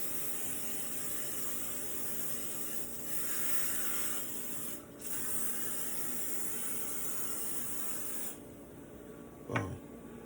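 Cooking spray hisses onto a baking pan in a long, soft, continuous spray with a few brief breaks, quiet and close, ending with a small clack.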